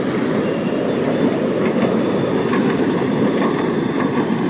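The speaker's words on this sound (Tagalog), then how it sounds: "Ayun po yung train." An LRT train passes in Manila with a continuous rumbling roll of rail wheels, steady and fairly close, with no voices.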